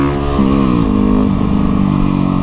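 A street motorcycle's engine idles and revs close by, a steady loud rumble with a rising pitch as the throttle opens, no voices over it.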